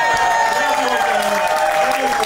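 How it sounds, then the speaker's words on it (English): A comedy roast battle audience claps and cheers in a steady wash of applause, with a voice speaking over it. "One more big round of applause."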